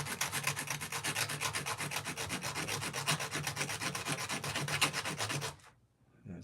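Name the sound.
sanding a ring to smooth it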